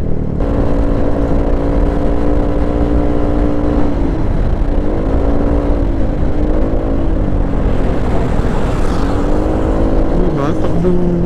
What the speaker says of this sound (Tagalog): Dito lang, overtaken pa rin tayo ng truck.